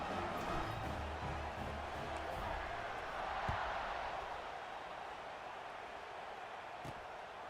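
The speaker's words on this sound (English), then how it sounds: "this crowd is buzzing after that last score" A stadium crowd in the College Football 26 video game buzzes after a score, a steady, loud wash of distant crowd noise with a few faint thumps and no clear talk.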